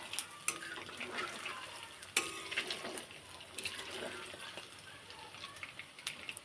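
Ingredients for homemade botfol (fig-like fruit snack) stirred and fried in a pan, soft sizzle with sharp metal scrapes and clinks at irregular intervals, close and fairly quiet.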